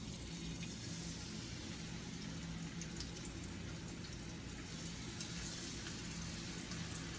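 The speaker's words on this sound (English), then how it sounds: "If you hear that sizzle, that's how you know your temperature is at a pretty good temp." Tilapia fillets sizzle in a hot pan with a steady, even hiss and faint crackle that is quiet and continuous throughout, with no voices.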